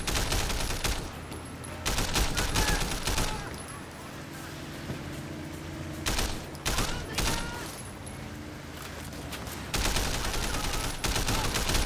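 Sleeping Dogs gunfire in repeated rapid bursts, loud and close, separated by quieter gaps, with a voice talking in between.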